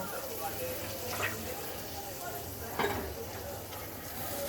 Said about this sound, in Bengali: এই আমি দিয়ে দিলাম সামান্য পরিমাণে জল মশলাটাকে কষানোর জন্য